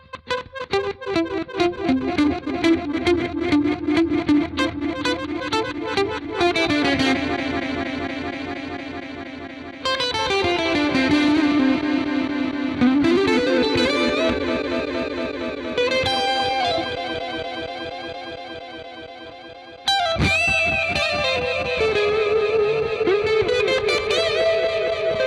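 An electric guitar played through a Lekato Delay Studio pedal set to a reverse-style delay: swelling, smeared notes and echoing chord phrases that rise and wash over each other, with no talking.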